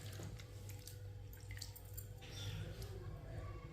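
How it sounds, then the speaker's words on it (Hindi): Masoor lentils being washed in water, with a steady wash of swishing and dripping liquid and a few brighter splashes, close but quiet, alongside a low continuous hum. "अब इसे वॉश कर लेते हैं 2 बार पानी में"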